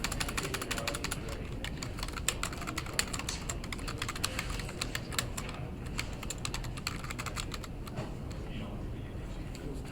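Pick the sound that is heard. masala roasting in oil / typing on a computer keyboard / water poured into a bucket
typing on a computer keyboard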